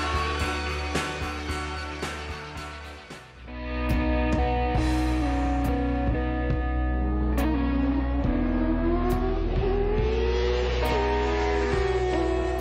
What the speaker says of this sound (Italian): Senti il rumore della tua moto, senti la musica del tuo motore.